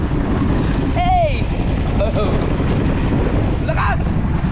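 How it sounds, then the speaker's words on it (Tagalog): Strong wind buffeting a boat out at sea, a constant loud roar and rumble with microphone buffeting throughout, while a few voices call out briefly over it. "lakas, lakas ng hangin."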